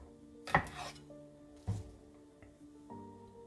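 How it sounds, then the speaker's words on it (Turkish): Two sharp knife chops strike a cutting board close up as garlic is finely chopped, followed by a few lighter taps and clinks, with quiet pauses between them. "Bir sarımsak. Sade olan için küçük küçük doğrayın."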